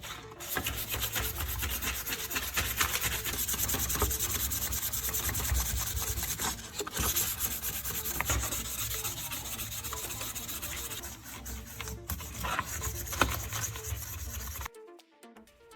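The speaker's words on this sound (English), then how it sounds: "take a piece of sandpaper and lightly rub the blades to remove any remaining grime or surface rust" Sandpaper rubbing the metal blades of pruning shears to clean off grime and surface rust, a steady close scratchy scrubbing that runs continuously, then stops abruptly near the end, with no talk.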